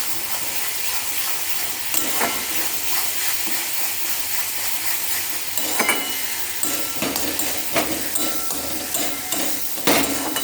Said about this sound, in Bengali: এবার ভালো করে এটা কষিয়ে নেব